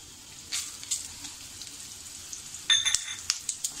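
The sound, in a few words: roasting coriander seeds in a pan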